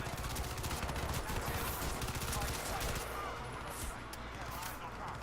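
Rapid bursts of video-game gunfire from Crysis 2 on Xbox 360, dense and continuous fusillades at close range under a commentator's voice, thinning slightly toward the end.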